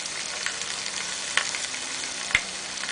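Hamburgers frying on a deadwood stove outdoors, a steady bright sizzle and crackle with a couple of sharp pops, fairly close and alone.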